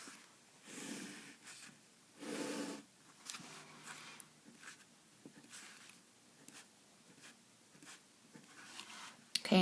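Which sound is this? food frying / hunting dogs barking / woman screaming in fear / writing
writing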